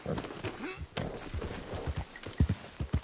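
Horse hooves clip-clop at a trot in quick, uneven beats, fairly close, with a voice faintly present beneath them.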